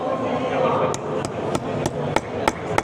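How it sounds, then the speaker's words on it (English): A hammer pounds a smaller bolt extractor down onto a stripped stud, striking six sharp, evenly spaced metallic blows close by over a low background rumble. "I'm going to take a smaller extractor and just pound the stud"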